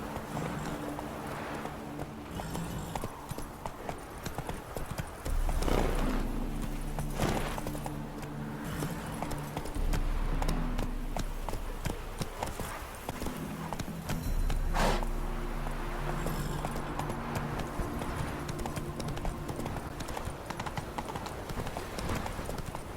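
Roach the horse gallops in The Witcher 3 video game, with steady rhythmic clip-clop hoofbeats and periodic low thuds under ambient game sound, while a voice speaks briefly.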